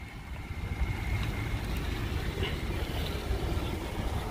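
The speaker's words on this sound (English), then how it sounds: "Motor sounds good." A 2005 Ford Explorer Sport Trac engine idling, a steady low rumble with some broadband wind-like noise, close and even throughout with no speech.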